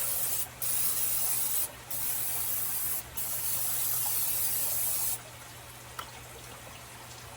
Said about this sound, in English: We're going to spray the inside of our crock pot with a little bit of Pam.